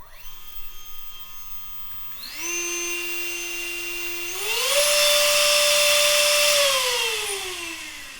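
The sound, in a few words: motor of broken TF64 Booster Turbofan running without blades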